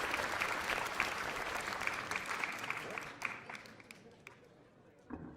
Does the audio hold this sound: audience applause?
yes